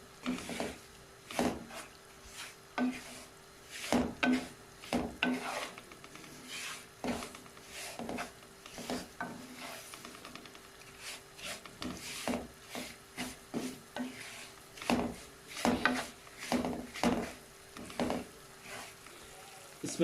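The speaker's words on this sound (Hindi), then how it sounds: "ऑयल हमारा गर्म हो गया, इसमें हम सूजी डालेंगे।" Semolina stirred in hot oil in a pan, with faint repeated scraping strokes and a soft sizzle underneath, spaced in a steady stirring rhythm.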